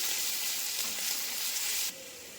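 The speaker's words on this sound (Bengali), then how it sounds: "ভালো করে একটু আদাটাকে ভাজবো মানে ভাজবো বলতে একটু কষাবো" Ginger fries in hot oil with whole garam masala and dried red chillies, a steady close sizzle that drops abruptly to a softer crackle near the end, with no talking.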